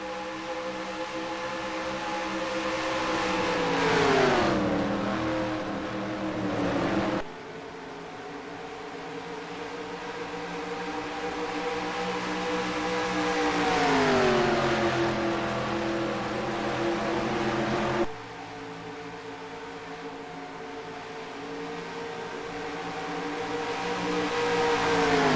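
Race cars in a NASCAR Racing 2003 video game at Charlotte Motor Speedway, a continuous engine drone that swells and pitches down as cars pass, cutting abruptly between passes, no talk.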